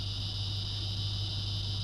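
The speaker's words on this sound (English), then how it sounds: "Yeah, cicadas are out. The cicadas are here." A loud, steady electric buzzing drone of cicadas, constant and unbroken throughout, with no voices.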